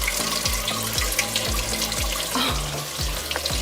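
Water from a pump trickles and splashes steadily through a hydroponic grow tower, a continuous close gurgling stream with repeating rhythmic pulses roughly every half second.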